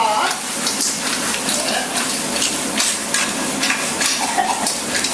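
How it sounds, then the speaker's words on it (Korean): Vegetables and cheongyang chili peppers stir-frying in a wok for Nagasaki white jjamppong, with a continuous loud hiss and clatter of tossing. "야채 넣고 볶는다. 맛 플러스 청양고추 볶는다."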